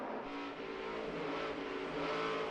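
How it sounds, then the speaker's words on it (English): A NASCAR Sprint Cup race car engine at Darlington roars and surges as the throttle is worked on and off exiting a corner, a continuous loud mechanical drone. "you really hear him having to pedal that throttle on the exit of the corner"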